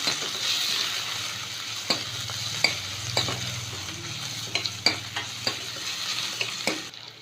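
Curry leaves frying in hot oil for a gram-flour kuzhambu, a steady sizzle under frequent sharp spatula scrapes and taps against the pan.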